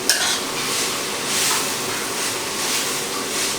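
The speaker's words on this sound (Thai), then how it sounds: "ผัดให้กระหล่ำปีสลด" Shredded cabbage filling for fried spring rolls is stir-fried in a hot pan, giving a loud, steady sizzle with continuous stirring scrapes throughout and no talking.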